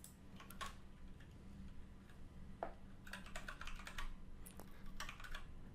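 Quick bursts of computer keyboard typing while renaming a code variable, light irregular key clicks in short clusters over a steady low hum, close and fairly quiet with no voices.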